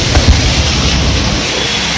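Heavy rain pours in a dense, steady hiss, loud and close with low rumbling underneath, near Crawford Market in Mumbai.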